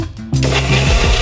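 A kitchen mixer grinder pulses onion and salt, a loud sustained motor whir with grinding texture starting abruptly after a brief quiet moment and running steadily to the end.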